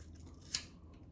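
Ignition points on a ported McCulloch 7-10A chainsaw snap shut on a strip of cleaning paper, a single short, sharp click standing out near and alone over a low hum.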